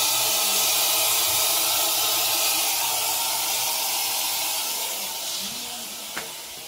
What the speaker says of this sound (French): on va voir toute l'air qui sort de la tuyauterie